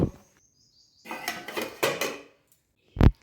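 A pot of rice cooked with potatoes is lifted off a home kitchen stove, giving a few close metallic clatters and scrapes in short bursts, then a single sharp clank after a pause.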